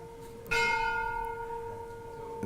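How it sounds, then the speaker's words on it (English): A loud bell is struck once, its bright ringing tone hanging on and slowly decaying for about two seconds before a second strike at the very end. "When the bell is finished, it's a good idea. It's a loud bell."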